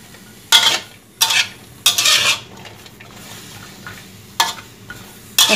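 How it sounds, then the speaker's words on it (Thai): Metal scraping and stirring in an old wok while dry-roasting, five or six short, sharp bursts separated by quieter gaps, close up, with no one talking. "คั่วจนกว่าจะสุกนะคะ"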